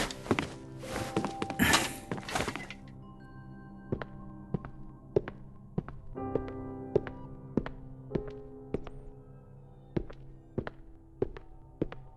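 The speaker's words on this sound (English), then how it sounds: "Wait, the flooring sounds strange here." Footsteps across odd-sounding flooring in the video game Identity V, a steady run of distinct hollow thunks about every half second, heard after a brief noisy burst at the start with faint background tones.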